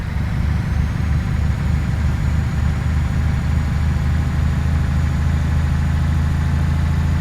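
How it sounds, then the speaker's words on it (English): Truck engine idling in Euro Truck Simulator 2, a steady deep low rumble with a constant mechanical drone, loud and close, continuing evenly throughout with no talking. "I love the sound of this truck."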